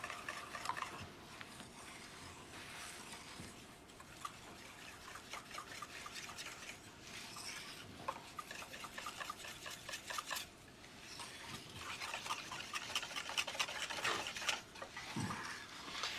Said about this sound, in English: I'm pushing my whisk end into the corner. Make sure I get any of that chocolate that may be stuck in those corners